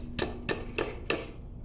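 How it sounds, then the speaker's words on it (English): Hammer tapping a wooden dowel into a nightstand part during furniture assembly, four sharp, evenly spaced knocks, close and clear with a quiet room behind. "Tap it in with the hammer."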